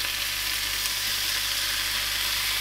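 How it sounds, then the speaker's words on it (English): Prosciutto frying in a hot frying pan gives a steady, dense sizzle with a low background hum, close and even throughout, with no voices. "I'll stick the prosciutto on"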